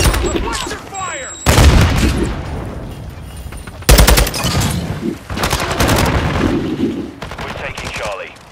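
Cluster strike explosions and gunfire in a first-person shooter match: heavy booming blasts land in sudden loud bursts, one after another, between rattling automatic fire and in-game radio callouts.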